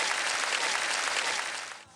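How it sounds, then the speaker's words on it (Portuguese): A church congregation applauds, dense continuous clapping that holds strong and then tapers off near the end. "Quantos aplaudem a Jesus pela vida dele"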